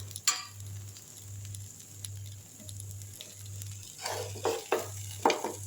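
Tandoori-marinated seer fish fries in a little oil in a pan, a faint background crackle broken by louder bursts of sizzling and spattering as the pieces are turned, over a low steady hum.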